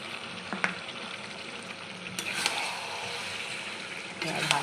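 Chicken sizzles in hot oil in a pan with a paste of garlic and dried red chilli, plus yoghurt and a little sugar, with steady frying crackle and occasional stirring scrapes close by.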